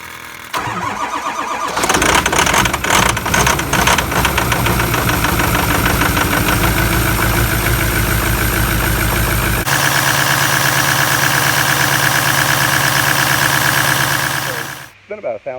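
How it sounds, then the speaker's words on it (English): Diesel truck engine cold started after sitting about two weeks, with a short cranking burst before it catches into a loud, rough, knocking idle that stays close and steady, with no talk over it. "I'm going to cold start this engine after it sat for about 2 weeks"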